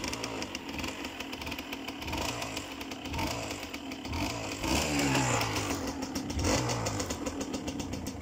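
A cold motocross motorcycle engine idles with a rough, rattling putter, briefly revving louder midway before settling back.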